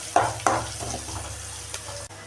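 Sliced onions sautéing in a pan with salt and turmeric give a continuous soft sizzle, with two sharp utensil scrapes near the start and a lighter clink later, close and without speech.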